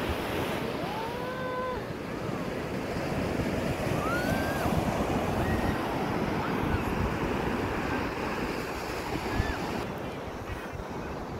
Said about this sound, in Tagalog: Lagpos tao yung alon oh.